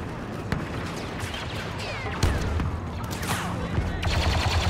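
Blaster fire and explosions in a Star Wars video game, a dense fusillade of rapid shots with sharp bursts layered over constant battle noise.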